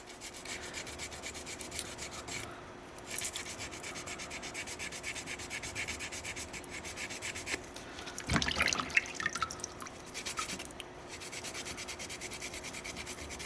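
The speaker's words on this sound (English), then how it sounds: "We don't want to scrub this way too far, or we'll completely grind the nose right off this guy." A soapstone wolf carving is scrubbed and rinsed, giving a continuous close rasping rub with a burst of splashing water and drips partway through, no voices.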